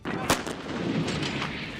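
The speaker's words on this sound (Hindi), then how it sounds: "चीन के सैनिक ट्रकों के जरिए तिब्बत के एक पहाड़ी इलाके में पहुंचे और तोपों के साथ अभ्यास शुरू किया" Artillery guns fire during a Chinese military drill in a Tibetan mountain area at about 15,000 feet, one sharp loud blast followed by rumbling, echoing noise and fainter booms.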